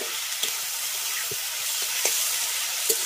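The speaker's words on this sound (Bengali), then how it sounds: "হলুদ আর লবণ দিয়ে সমস্ত কিছুকে আগে খুব ভালো করে একটু ভেজে নেব।" Flower pieces fry with turmeric and salt in a pan, giving a steady close sizzle with a few soft stirring scrapes spaced through it.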